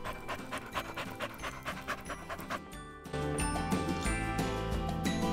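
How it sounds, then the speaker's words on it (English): Dog panting in a Minecraft game, a rapid rhythmic series of breathy pants repeating steadily and close, over a continuous background tone that grows fuller partway through. "You sure are panting."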